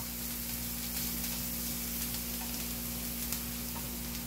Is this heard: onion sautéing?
yes